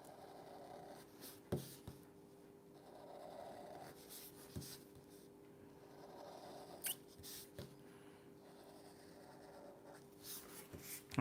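A pencil or pen drawing a circle by hand on paper, a soft continuous scratchy scraping with brief faint taps, close and quiet, no talking.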